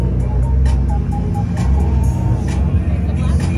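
A Mazda import pulls up at a low-car limbo event at Loudon, NH, its engine a steady loud drone close by, with crowd noise and voices talking over it.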